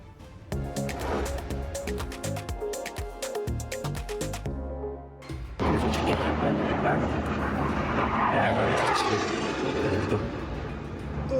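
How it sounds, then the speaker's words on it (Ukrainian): Fighter jets fly overhead during the Kursk operation in August 2024, a loud broad roar that rises and holds after a short stretch of tonal sound. "Тут літаки над головою летять, винищувачі."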